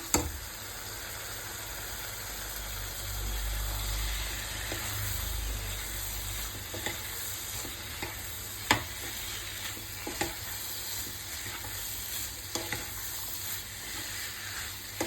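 Kidney beans are stirred into a masala of tomato puree in a pan for an Assamese rajma curry, giving a steady soft sizzle with scattered scraping spoon taps, close and without talk.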